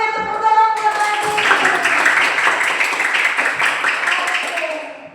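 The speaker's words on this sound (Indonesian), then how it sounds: "tepuk tangan buat lagi" A classroom of students claps together in a steady burst that runs for several seconds. A teacher's voice is heard briefly at the start.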